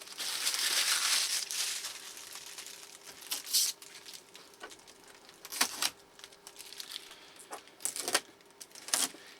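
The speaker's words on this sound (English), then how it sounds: "we got to take all this shrink wrap off. Get everything peeled" Shrink wrap and tape being peeled off a new Epson WorkForce WF-3620 printer: close, steady plastic crinkling and crackling, then sharper intermittent rips and rustles as pieces pull away.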